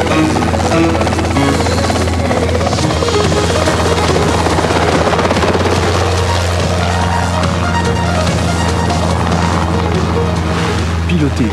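A helicopter's steady, loud rotor and turbine drone fills the whole stretch, close and continuous, in a 1991 Belgian television advert for an aviation school, with a voice speaking over it.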